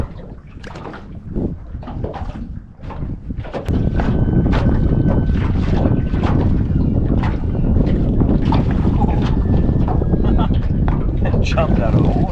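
Strong, steady wind buffets the microphone on a fishing boat, loud and continuous, rising sharply a few seconds in, with faint sounds of the boat on water underneath.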